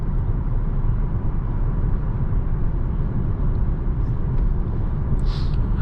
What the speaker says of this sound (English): I am hearing a little bit of wind noise